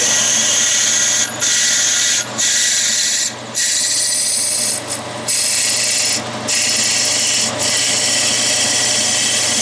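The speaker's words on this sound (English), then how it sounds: "I just drill in until I feel the bottom of the hole." Drill bit boring a 25/64 tap drill hole for a 7/16-20 thread on an Atlas lathe, a steady close whirring hiss broken by several brief dips as the cut pauses.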